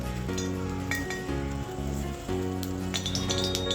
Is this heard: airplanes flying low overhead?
no